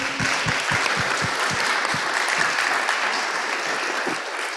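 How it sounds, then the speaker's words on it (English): Loud, continuous applause from a room full of people at an education conference session, a few sharp claps standing out early, holding steady to the end. "Let's give a big applause to Ari."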